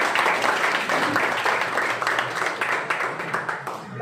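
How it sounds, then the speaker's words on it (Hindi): A crowd at an office opening in Shajapur, Madhya Pradesh applauds steadily, a dense wash of many hands clapping at once, sustained for a few seconds without pause. "तो प्लीज पर्टिकुलर पर्सन के लिए एक बार और तालियां बजाएं।"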